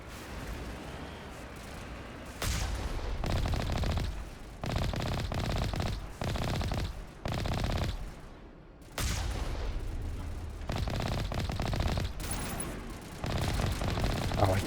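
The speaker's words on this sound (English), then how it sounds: "I kept on shooting the dead body over there" Rapid bursts of automatic gunfire from the video game Mass Effect, coming in repeated loud volleys with brief pauses between them and a faint voice underneath.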